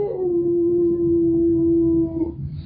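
A voice imitates an old hound dog howling, holding one long, steady, mournful tone for about two seconds before it breaks off, loud and close with no other talk.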